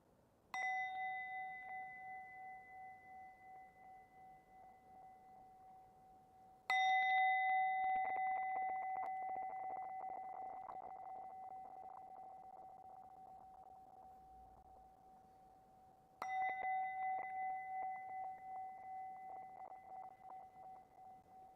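A meditation bell is struck three times to close a meditation session, each ring a clear, sustained metallic tone that slowly decays, sounding alone in a quiet room.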